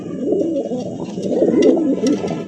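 Top-quality fancy racer pigeons coo in soft, rolling, throaty bursts that overlap one another at close range, with a few brighter flutters and clicks mixed in and no talking.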